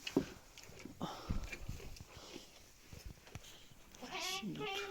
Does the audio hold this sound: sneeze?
no